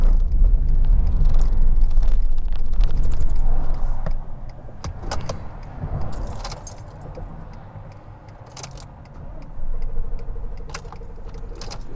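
A Ford F150 pickup runs out of fuel and its engine dies on a highway, a low rumble fading and cutting out, with jangling keys, clicks and cabin rattles as it slows and stops.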